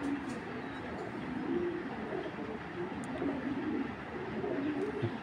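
Racing pigeons coo in a steady, low, rolling murmur that carries on without a break, set against a noisy background with a few faint sharp ticks.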